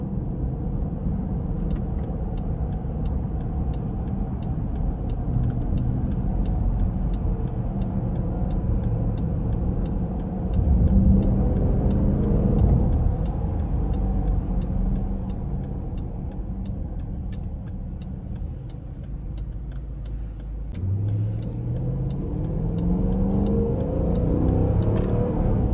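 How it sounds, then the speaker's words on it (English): A 2020 Dodge Durango R/T V8 engine revs hard and climbs in pitch, a deep exhaust rumble rising and falling steadily, close and loud throughout with no talking. "this V8, the higher it gets in the revving, the better it sounds."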